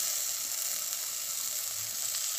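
Ginger paste and chopped tomato dropped into hot oil with chilli and turmeric, producing a loud, even, hissing sizzle that stays constant and close from start to finish, without speech.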